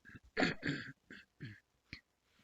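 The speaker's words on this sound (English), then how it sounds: "just excuse all the coughing and gruffling here." A person nearby clears their throat and gives a few short, gruff coughs, separated by brief pauses.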